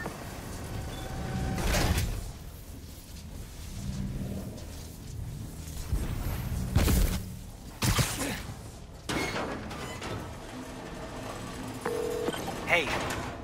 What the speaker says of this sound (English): I'm opening the door.